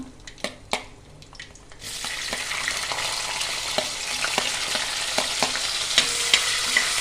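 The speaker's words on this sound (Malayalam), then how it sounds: "കടുകൊക്കെ നന്നായിട്ട് പൊട്ടുന്ന സൗണ്ട് കേൾക്കുന്നുണ്ടോ കൂട്ടുകാരെ" Mustard seeds pop and fry in oil for a homemade kanthari chilli pickle: sharp crackles open the clip before a louder, steady sizzle takes over, still punctuated by scattered bright pops.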